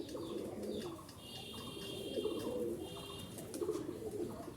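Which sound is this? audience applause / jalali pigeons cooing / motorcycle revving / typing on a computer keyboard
jalali pigeons cooing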